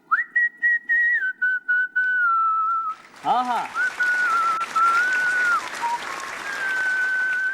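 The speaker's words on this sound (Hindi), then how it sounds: "मैं बहुत प्रॉपर विसल करता हूँ, लाइक सुरों के साथ।" A man whistles a melodic tune on a TV talk show, a clear sustained note that steps between pitches, then audience applause breaks out and continues beneath more whistling, with a brief spoken interjection.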